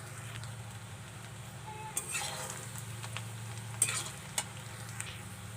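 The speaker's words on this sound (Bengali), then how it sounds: "পেঁয়াজটাকে হালকা বাদামি কালার করে ভেজে নেব।" Chopped onions frying in mustard oil make a soft, steady sizzle, close and fairly quiet, broken by a few sharp clicks of a spatula stirring against the pan.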